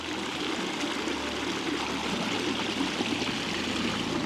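Mountain stream flowing on Agyasol Mountain in Kishtwar, a steady broadband rushing and trickling of water, close and continuous with no talk.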